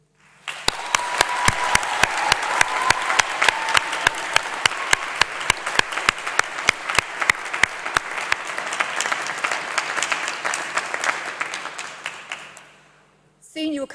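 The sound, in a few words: graduates' applause and cheering at graduation ceremony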